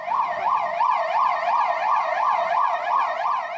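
A 108 ambulance siren wails steadily in traffic, its rising and falling tone repeating in quick, even cycles, loud and close.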